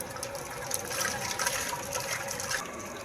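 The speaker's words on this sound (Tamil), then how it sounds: "இவர் உருளைக்கிழங்கு அலசி அவிய போட்டுட்ருக்காரு" Water splashes and gushes steadily as potatoes are washed for boiling in a large outdoor sweets-making kitchen, a loud continuous rush close by with no talk.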